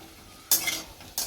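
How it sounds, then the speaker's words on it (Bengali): Potatoes for a fish curry frying in a pan, with two short bursts of hissing sizzle and a clink of stirring against a quiet background. "মাছের ঝোলের আলুটা ভাজা হচ্ছে"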